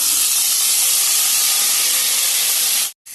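Potatoes dropped into hot oil tempered with nigella seeds for a Bengali fish curry, giving a loud, dense, continuous hiss of sizzling close by, cutting off abruptly near the end with no talk.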